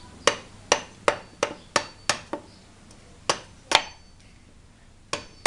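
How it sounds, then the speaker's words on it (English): A thin-tapered knife blade chopping into very hard wood in a test, about a dozen sharp ringing strikes at irregular intervals, each with a brief metallic ting, close and loud over quiet background. "you can hear it tinging against this wood. This wood is so hard."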